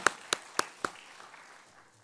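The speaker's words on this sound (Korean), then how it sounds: "하나님께 영광의 박수 드리겠습니다." Church congregation at a Wednesday worship service in Daegu clapping together: four sharp, unison claps in an even rhythm, close and crisp, followed by a fading room tail.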